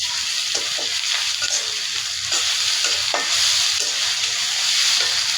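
Garlic frying in a pan, a steady bright sizzle with repeated soft stirring scrapes at close range, no voices.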